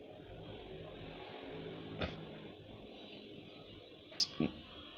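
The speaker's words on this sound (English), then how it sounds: "I just click on the name of the group." A computer mouse gives a few sharp, quiet clicks: a single click, then a quick pair near the end, over a low steady background.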